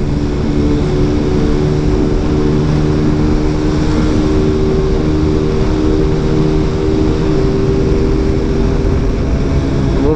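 Bajaj Pulsar AS 150 motorcycles ride together at speed, giving a loud, unbroken engine drone mixed with heavy wind roar that holds steady throughout.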